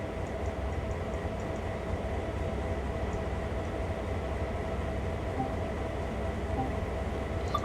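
A train running in the Train Sim World 3 video game during yard switching, a steady, continuous low rumble of rolling wheels and engine with faint rhythmic clicks throughout.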